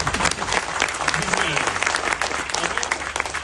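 Audience applause at a talk, dense clapping from a crowd filling the whole stretch steadily, with a voice speaking over it.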